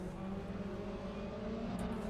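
Race car engine in the RaceRoom racing game on a final lap into a hairpin: a dense, steady buzzing drone held at high revs, loud and continuous with no pauses.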